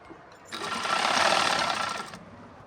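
A sewing machine stitches lace onto a salwar in a single fast burst of rapid mechanical chatter lasting under two seconds, close and fairly loud.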